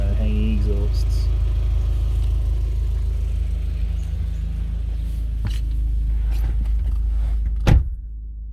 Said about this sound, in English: Sound from within the car, while the car is at idle.